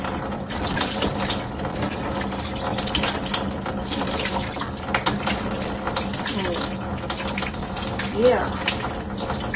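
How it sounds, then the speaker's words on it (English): Water runs steadily from a faucet into a kitchen sink after it has been unclogged, a continuous close rushing flow with a brief spoken word over it. "So the water will run here."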